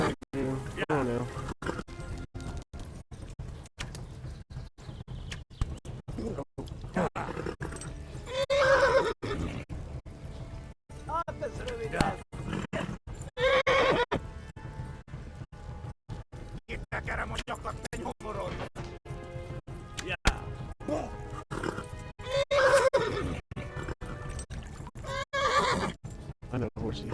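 Horse neighs and whinnies ring out several times in a video game, mixed with hoof clip-clop and busy game effects, while people talk excitedly over the action.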